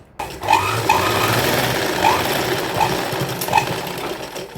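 Sewing machine stitching the shoulder seam of a side dori pattern kurti, a steady close motor whir with a light rhythmic knock running throughout, no voices.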